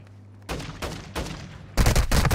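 Video game gunfire in quick bursts, a few sharp volleys building to a louder, dense stretch of rapid shots at the end, close and punchy.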